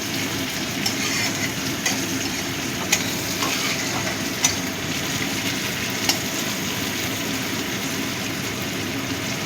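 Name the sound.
whole garam masala spices frying in hot oil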